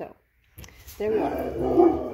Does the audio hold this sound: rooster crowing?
no